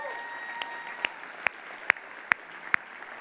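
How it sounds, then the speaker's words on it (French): Slow, sparse hand claps, six or so sharp isolated claps spaced evenly about half a second apart, over a faint background hum at a French-language training talk. "est-ce qu'on peut les réapplaudir de nouveau ?"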